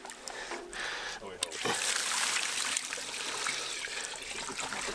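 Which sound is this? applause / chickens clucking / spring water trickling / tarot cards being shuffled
spring water trickling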